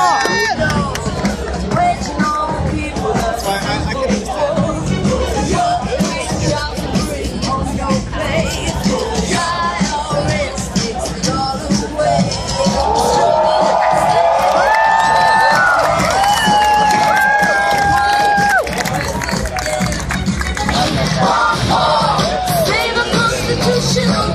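Rally crowd at a Ron Paul speech at UCSD cheering and yelling loudly, a dense sustained roar of many voices with shouts and whistles rising partway through, filling the whole stretch.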